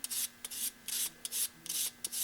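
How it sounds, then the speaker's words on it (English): Someone sands and shapes the edges of a small wooden model rudder in quick repeated strokes, about nine soft rasping rubs in a steady rhythm, close and quiet. "doing the final shaping on the rudder here. Rounding over the edges a bit"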